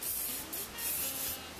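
Hairspray hisses from an aerosol can onto a curled vintage-style hair wave, coming in several short, close bursts over a steady background.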